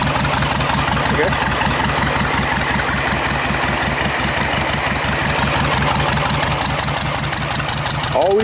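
An old air-cooled Volkswagen buggy engine idles steadily and loudly up close, a rough, even low-pitched chugging that runs throughout without dropping out.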